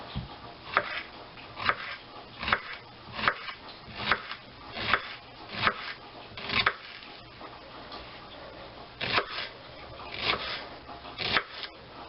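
Knife slicing through shallots on a cutting board, a steady series of crisp, close taps about every half second, with a brief pause midway before the rhythm resumes.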